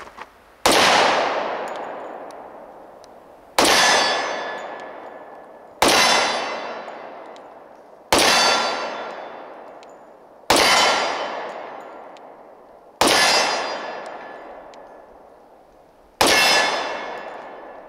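Seven loud 10mm shots from a Springfield Armory XDm Elite pistol at a steady, unhurried pace outdoors, each followed by a ringing clang from a steel target and a long fading tail.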